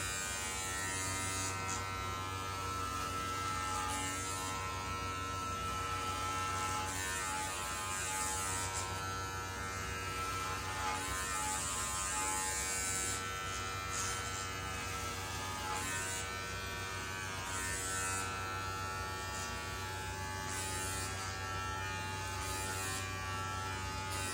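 Electric hair clippers buzzing continuously throughout a self-haircut for a mid drop fade, a steady close motor drone with slight shifts in tone as the blades move through hair, no talk.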